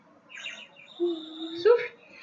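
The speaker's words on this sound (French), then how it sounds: "Ça c'est un petit oiseau siffleur." A small water-filled toy bird whistle is blown, giving a warbling, trilling chirp with a rising wobble, fairly close and moderately loud, alone without talk.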